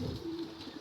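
Soft, low cooing from a young red pigeon, a single brief call heard near and alone with no talk over it.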